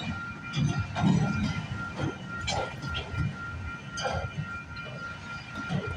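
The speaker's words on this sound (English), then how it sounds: "I thought I heard a horn, so I just got an unexpected train." A CPKC freight train rolls past on the tracks at night at Galt, Milepost 57, with a steady rumble and rhythmic clicking of wheels over the rails, at moderate distance.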